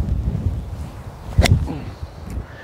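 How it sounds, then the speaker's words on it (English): Strong wind buffeting the microphone outdoors, a steady low rumble of gusts with a brief rustle near the middle and no speech. "So windy, guys. Blowing my cap off."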